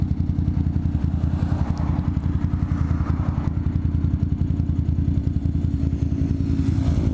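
A motorcycle engine runs steadily and loudly throughout, a dense low rumble with rhythmic clatter and a slight rise in revs near the end, heard close by with no talking.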